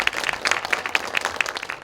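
Audience clapping at a book concert for lawyer Ha Seung-soo, a steady round of applause welcoming him to the stage, dense and continuous throughout with no talk.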